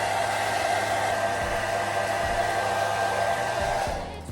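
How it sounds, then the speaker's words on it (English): A blow dryer on low heat dries wig glue, blowing with a steady close whooshing hum for several seconds before cutting off at the end. "So I'm gonna get my blow dryer and just blow dry it on low heat."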